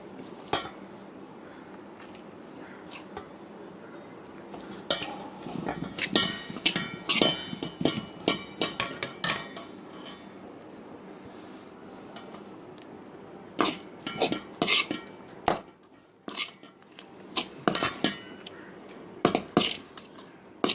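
Rice being mixed with tamarind paste in a metal vessel for temple-style puliyodharai, heard as irregular scraping knocks and clinks of a spoon against the pot in clustered bursts with quiet pauses between.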